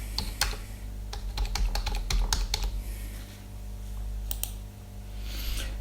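Fingers typing on a computer keyboard while filling in a train ticket booking form, with quick irregular clusters of crisp key clicks and short pauses, close and moderately loud with no talk.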